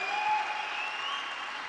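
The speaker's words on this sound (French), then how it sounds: "Merci d'applaudir très très fort Christophe Sapé et ses équipes" A brief, steady burst of audience applause at the world presentation of the Navya Autonom Cab autonomous taxi, even clapping from a room full of people with no talking over it.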